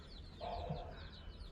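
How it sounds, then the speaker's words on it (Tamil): A young Aseel country rooster, about seven months old, crows once at a chicken farm in Chennai, faint and distant over low background noise. "சேவல் வந்து இப்போ தான் கூவுச்சு."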